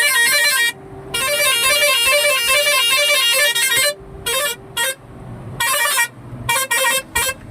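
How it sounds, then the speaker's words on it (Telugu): A car horn honks repeatedly on a ghat road while driving: a long blast, then several shorter toots and a final run of quick short beeps, loud and close over a low engine hum. "మనం వస్తున్నామని తెలవాలంటే ఖచ్చితంగా హారన్ కొట్టాలి."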